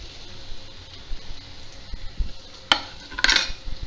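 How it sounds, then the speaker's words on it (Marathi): Raw potato slices are laid one by one into a pan, making soft clinks and scrapes. Two brighter metallic knocks and a faint sizzle are heard near the end, with no talking. "आणि आता बटाट्याचे काप ठेवते"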